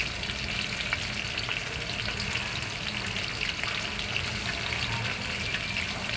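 Chicken pieces fry in a wok for chicken rezala, giving a steady, loud, dense sizzle that holds evenly throughout with no talking.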